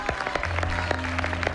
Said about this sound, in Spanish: Señores, aplauso a lo que me dijo mi compadre.